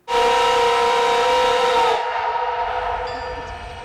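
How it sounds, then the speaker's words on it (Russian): A vintage steam locomotive's whistle blasts loud and close with a sharp start, holding a steady chord-like tone before dropping to a softer, thinner continuation as the blast fades. "Вот он, знаменитый гудок."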